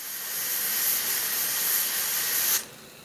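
A pressure cooker making beef chili vents a loud, steady hiss of steam for about two and a half seconds, then cuts off abruptly as the valve seals, leaving faint background noise.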